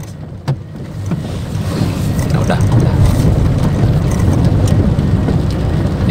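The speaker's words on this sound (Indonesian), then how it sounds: "hujan." Rain during a night drive between Sumedang and Malangbong, a steady hiss with wind and road rumble filling the cabin throughout, while someone speaks briefly at the start.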